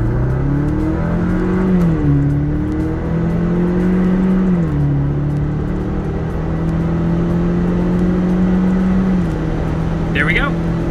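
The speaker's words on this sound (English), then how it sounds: "Pedal to the metal." A 2021-or-newer Ford Bronco with a modified 2.3L turbo engine pulls hard at full throttle down an eighth-mile drag strip, its loud engine tone climbing, dropping at gear shifts, then climbing again.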